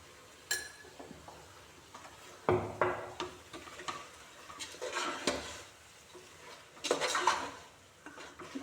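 Metal utensil clanks and scrapes against a pot as beef curry with fenugreek and curry leaves is stirred, with intermittent clatters and a lid being set on, close and fairly quiet.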